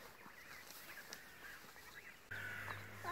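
Geese give faint, scattered honks and calls outdoors, followed by a louder sustained honk near the end.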